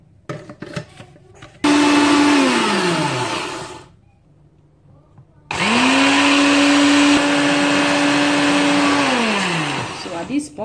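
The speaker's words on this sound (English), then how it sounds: "and then we blend." A kitchen blender whirs loudly as it purées parsley with lemon juice and water, running in two long bursts with a brief pause between them. The motor winds down at the end of each burst.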